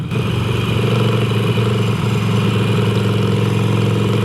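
A Harley-Davidson Iron 883 motorcycle idles close by, a loud, steady, low engine rumble that holds evenly throughout, with no talking.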